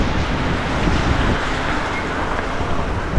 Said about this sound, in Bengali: বলতে পারো নেক্সট লেভেল বৃষ্টি হচ্ছে, একদম হাড়ুর বৃষ্টি